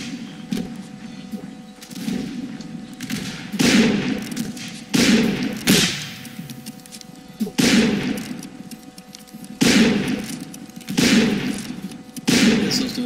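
Musket volleys in the Mount & Blade: North & South battle game, repeated sharp bursts roughly every two seconds with a rattling, crackling tail, loud and close amid continuous battlefield din.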